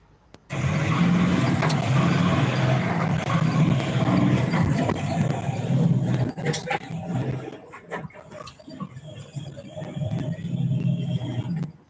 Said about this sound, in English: The truck drivers take this opportunity to try and drive away.